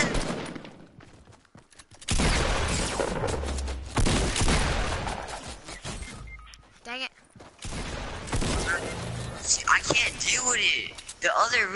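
Video game gunfire, rapid bursts and single shots crackling over a player's loud excited chatter, with the shots clustered in brief volleys between stretches of talk.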